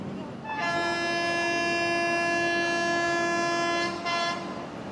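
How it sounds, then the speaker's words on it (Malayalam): The 16315 Mysore–Thiruvananthapuram North Express passes with a long, loud, steady horn blast lasting several seconds, a rumbling train background underneath and faint voices in the mix. "16315 മൈസൂർ തിരുവനന്തപുരം നോർത്ത് എക്സ്പ്രസ് കയറി വരുന്നുണ്ട്."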